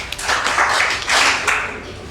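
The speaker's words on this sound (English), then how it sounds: "can we clap for them?" A school debate audience claps for the Olofa Grammar School affirmative team, a steady broad patter of many hands lasting a couple of seconds with brief swells, fairly close and loud.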